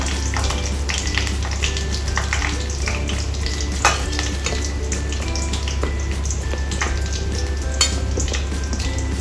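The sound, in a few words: eggplant slices frying in a pan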